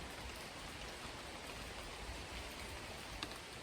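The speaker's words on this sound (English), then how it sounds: "you can really hear the rain is coming down now" Steady rain comes down outdoors, a dense, even hiss of drops on surfaces that stays constant throughout, with no voices.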